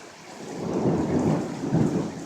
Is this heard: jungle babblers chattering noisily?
no